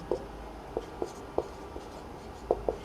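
A pen writes on paper during a class 12 maths lesson, producing quiet, irregular scratchy strokes, about seven short taps and scrapes spread across a few seconds.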